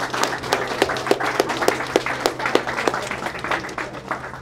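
An audience at a churrascaria gathering applauds a group of bodybuilders, with scattered, fairly close hand claps in an uneven rhythm over a low background hum and murmur.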